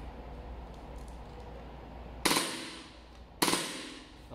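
A gas airsoft gun fires in burst mode: two sharp, loud cracks about a second apart, each a rapid clustered burst with a quick decay, following a quiet stretch of low background hum.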